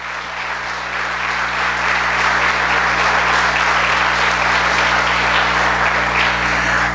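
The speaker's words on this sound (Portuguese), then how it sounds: "Dá uma salva de palmas para Jesus" Applause from a church congregation, steady and dense, fills the whole stretch at a strong, even level, with no pause or break.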